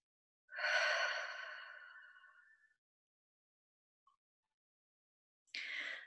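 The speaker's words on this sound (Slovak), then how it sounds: "výdych." A deep, long breath out during a guided meditation, soft and close, trailing off slowly over two seconds, followed by silence and then the start of another quiet breath.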